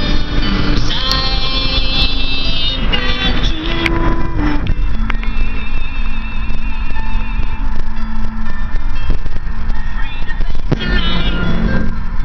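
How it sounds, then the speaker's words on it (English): Steady road rumble and wind rush from a car being driven on a highway in January with the window down, continuous and loud throughout, with a few brief tonal squeaks and clatters over the engine and tire noise. "I'm driving with the window down"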